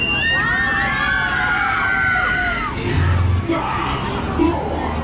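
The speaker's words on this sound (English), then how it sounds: "Let me hear you scream if you want to go faster!" Riders screaming and cheering together on a ride at Alton Towers, loud and close, with rising shouts and whoops that swell midway and blend with a voice.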